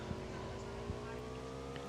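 Motorbike engine in PUBG Mobile hums with a steady low drone, moderately loud and unbroken, with faint rumbles layered beneath, while a voice talks quietly over it.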